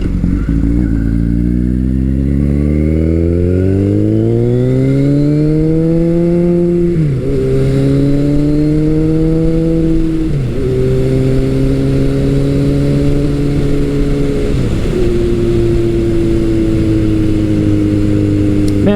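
A Kawasaki motorcycle, a KZ1000 or ZRX1200R, fitted with a Delkevic exhaust, revs up loud and close in a series of rising pulls, with brief dips at each gear change and no talk over it.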